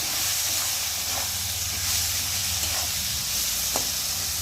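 Green chillies and fried prawns with chopped tomato stir-fried in a pan for a cabbage dish, a steady close sizzle and hiss with a faint scrape of stirring, no talk.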